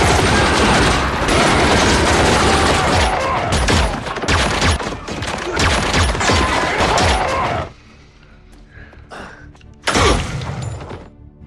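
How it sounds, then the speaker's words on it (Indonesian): Dense bursts of automatic gunfire spray gangsters in a movie shootout, loud and continuous for several seconds with shattering debris, then a lull before a final sharp burst. "tiba-tiba Otto dan yang lainnya langsung memberondong para gangster itu."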